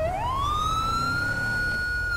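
Police car siren in GTA 5 with the LSPDFR mod, a single loud rising wail that sweeps up and holds a steady high tone, with no talking over it.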